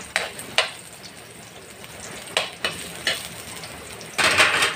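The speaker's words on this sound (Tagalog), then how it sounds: "Medyo bilisan lamang po yung pag-stir natin ng ano. Para hindi po siya nakusunog." Thinly sliced julienned ginger is stir-fried fast in a hot pan, a steady low sizzle broken by several sharp scraping and tapping strokes of the spatula, ending in a louder burst of frying, near and without speech.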